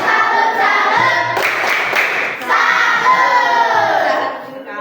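A class of children in a school lesson perform a tepuk salut clapping chant, with loud rhythmic claps and shouted voices in unison, close and energetic throughout.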